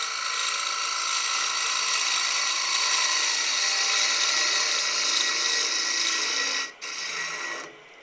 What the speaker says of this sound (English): by drilling through from the base to the top